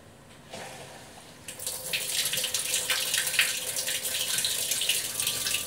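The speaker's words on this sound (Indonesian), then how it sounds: "air dari kran mengalir meskipun mesin cuci kondisinya off" Water from a tap pouring into a Samsung top-loading washing machine while the machine is switched off, a faint start then a steady loud rushing flow filling the drum, close and continuous.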